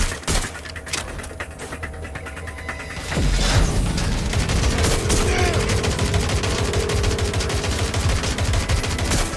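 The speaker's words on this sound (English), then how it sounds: "They're shooting!" Gunfire from a firefight in Watch Dogs Legion, with bursts of shots and rattling automatic fire that grow louder and denser partway through, set against a busy in-game background.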